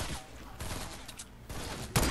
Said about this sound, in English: Is he shooting at you?